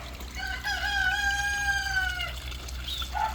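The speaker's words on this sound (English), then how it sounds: "My roosters are still alive, so they're still crowing." A rooster crows once in a long, drawn-out call, fairly close, with a brief cluck or second bird sound just after.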